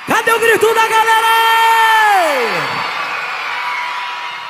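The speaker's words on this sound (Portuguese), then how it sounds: "Cadê o grito da galera?" A live concert crowd in Bahia shouting and cheering loudly on cue, with a sustained roar that rises into a singer's long held vocal glide that falls away, then the crowd noise fades back down.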